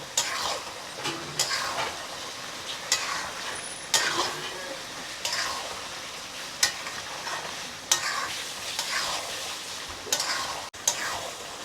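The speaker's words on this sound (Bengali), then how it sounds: "এখন আরও একটু ভেজে নেব।" Goat meat fries with nutmeg, mace, bay leaves and fennel seeds, sizzling in a pan while a utensil scrapes and stirs it in repeated strokes every second or so, close and fairly loud.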